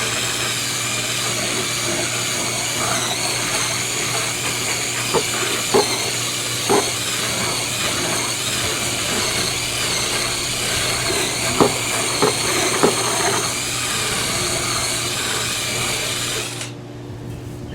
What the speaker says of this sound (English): Here's my version of a spin scrubber to drill with a nice brush in it.